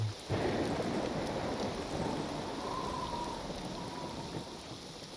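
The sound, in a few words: rain and thunder in video game Neverwinter Nights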